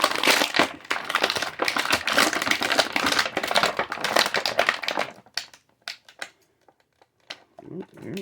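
Plastic packaging around a Masters of the Universe Masterverse action figure crinkles and crackles as it is cut out with scissors. Busy rustling and snipping give way to sparse clicks and taps.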